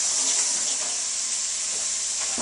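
Steak frying in a hot pan alongside vegetables, a loud close continuous hiss of sizzling fat with a faint crackle, steady throughout with no talking.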